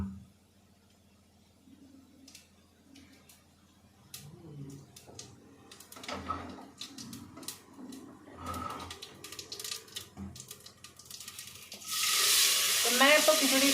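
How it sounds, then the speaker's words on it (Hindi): Khichdi being tempered in hot oil with cumin and asafoetida, starting with quiet clinks and stirring, then a loud, steady sizzle erupting near the end as ingredients hit the oil. "तो अभी इसको छौंक देते हैं।"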